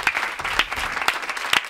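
An audience on a Spanish late-night comedy show claps, a close, fairly loud burst of scattered hand claps with a few sharper individual smacks standing out.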